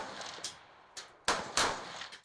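Several sharp gunshots crack out at uneven intervals, with the last two loudest and closest, each leaving a brief echoing tail, at a Ukrainian paratrooper training range with machine guns, including a heavy Browning, and rifles.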